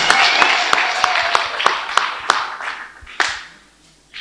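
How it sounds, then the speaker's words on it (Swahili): A church congregation claps in a regular rhythm, with sharp hand claps repeating about every third of a second, and a high ululation or voice running over them before the sound fades out. "Chapa makofi na vigelegele kwa Bwana."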